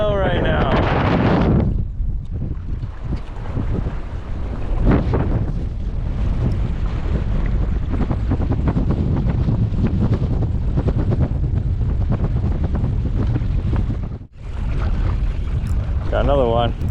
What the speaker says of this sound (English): it is windy as hell right now